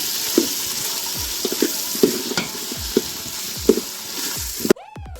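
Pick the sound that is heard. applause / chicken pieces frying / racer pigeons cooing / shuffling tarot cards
chicken pieces frying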